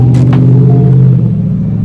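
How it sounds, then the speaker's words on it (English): A loud, steady low rumble of a passing truck engine close by, droning throughout with no voices. "sorry, that truck was loud."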